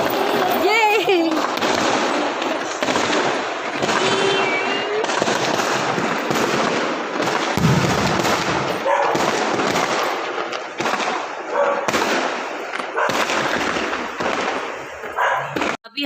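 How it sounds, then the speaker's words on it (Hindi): Diwali firecrackers bursting at night, with loud pops and bangs going off nearly nonstop throughout, mixed with barking dogs and people talking nearby. "अभी तो वैसे भी फोड़ते ही हैं पटाखे"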